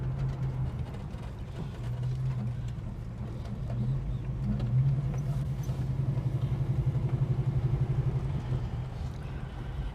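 Engine of a Holden HK car idling and running at low revs while driving, a steady near rumble that swells into a rhythmic pulsing thrum toward the end, with no voices.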